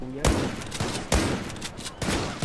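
Gunfire rings out in the Zula shooter game as several sharp bursts of shots crack in quick succession. They are moderately loud and come in irregular clusters over a couple of seconds.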